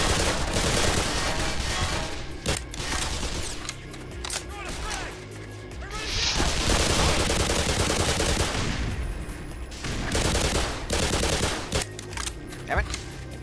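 Sniper gunfire in Black Mesa, loud repeated shots and cracks in irregular bursts over heavy game noise, with a voice breaking in now and then.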